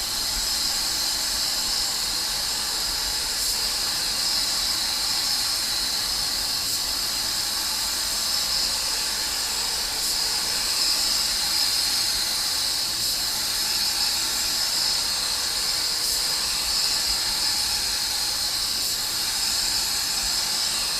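A spray gun with a 1.3 tip lays down sealer for a three-stage pearl paint job, producing a steady, loud hiss of air and atomized material that runs continuously without pause.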